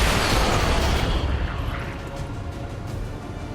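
A loud explosion in the XCOM 2 strategy game erupts with a heavy booming rumble that sustains for about a second and then slowly decays into a lingering low roar.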